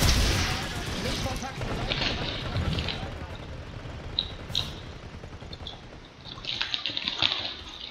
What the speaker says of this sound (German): Wer schießt denn?